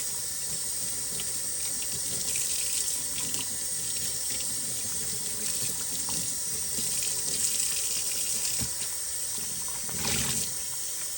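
Cold water runs steadily from a tap while dyed Tencel yarn is rinsed, making a loud, continuous hiss and splash with small irregular sloshes and no talking.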